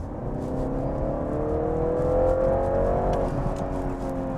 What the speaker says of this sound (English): especially when you set it to that extra boost in sport mode. It just takes off like nobody's business.